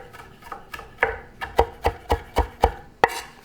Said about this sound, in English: I put the rosemary together. Because this, everything gotta be chopped together.